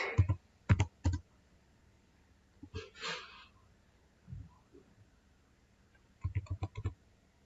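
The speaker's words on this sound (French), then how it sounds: "Je tape une commande bizarre." Keystrokes on a computer keyboard while a router command is entered: sparse clusters of sharp clicks, a few isolated taps, then a quick burst of typing near the end, close and fairly quiet.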